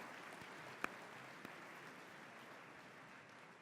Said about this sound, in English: How about another round of applause for all the winners of this evening's awards?